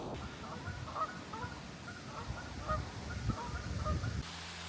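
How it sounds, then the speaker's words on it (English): Geese honk in a park, a scattered flock calling repeatedly at moderate distance over steady outdoor ambience, with no talking. "I feel like I'm leading a goose conga here in Elmore Park."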